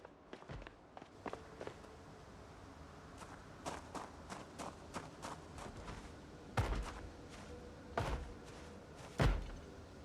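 Zombies pound on a door or fence in the 28 Years Later video game. Light scuffing knocks lead into three louder, booming bangs toward the end, sounding nearby and with no talking.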